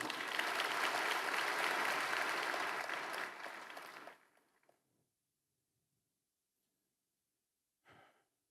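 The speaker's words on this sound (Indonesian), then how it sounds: "mari kita beri tepuk tangan buat Tuhan kita, saudara" A church congregation applauding together during a worship service, a dense, loud wash of clapping that holds for about four seconds, then stops abruptly into near silence, with one brief soft rustle near the end.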